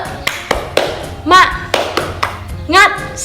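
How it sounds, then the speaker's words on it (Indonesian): Rhythmic 'tepuk semangat' hand clapping: a series of sharp, close claps in a patterned beat, interleaved with a lively voice chanting between clap groups. "yuk kita tepuk semangat dulu"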